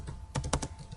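A few quick computer keyboard keystrokes entering a search term in a file search box, sharp clicks bunched close together in a short burst, near and moderately loud over faint room hum, with no voices.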